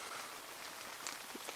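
Steady rain falls on a tarp shelter during hammock camping in a thunderstorm, a constant close hiss of drops with a few louder individual patters.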